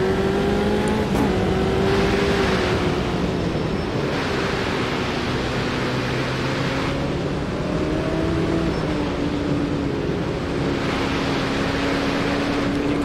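An F309 open-wheel race car engine drones steadily at Campo Grande in Automobilista 2, its pitch rising and falling through gear changes as rival cars pass, a continuous loud roar under late braking in the first corner.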